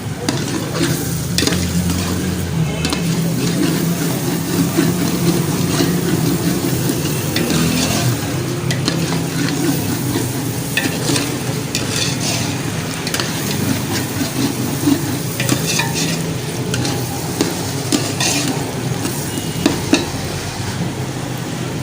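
Chopped green chillies fry in a pan while being stirred, with a constant loud sizzle and scraping, as in a commercial-style aloo matar cooking session, with no talking.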